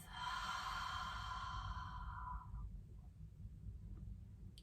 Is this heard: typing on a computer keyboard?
no